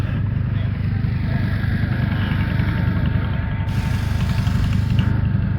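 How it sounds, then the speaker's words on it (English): A 1946 Farmall M pulling tractor engine runs steadily nearby, with a low, throbbing mechanical rumble that holds at a constant level throughout. "Farmall M pulling tractor."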